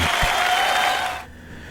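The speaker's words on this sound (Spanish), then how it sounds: "Aplausos para eso." A studio audience on a morning TV show applauds briefly, a loud wash of clapping that stops abruptly after about a second.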